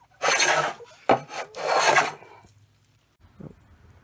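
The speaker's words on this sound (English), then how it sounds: "Just shaving it down." Hand tool shaving down a wooden flushing beam for leather tanning, two loud rasping strokes followed by a fainter scrape after a short pause.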